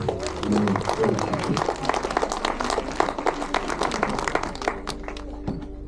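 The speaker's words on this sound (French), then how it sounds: "on peut l'applaudir aussi, elle n'est pas là." A crowd at a guide-dog charity evening applauds an absent pianist, with steady, dense clapping that runs the whole length and voices mixed in underneath.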